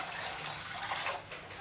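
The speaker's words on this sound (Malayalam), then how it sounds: "ഇനി ഇതിലേക്ക് നമുക്ക് വെള്ളം ഒഴിച്ച് കൊടുക്കാം." Water is poured onto washed rice for soaking, a soft, steady splashing rush at low volume with no talk over it.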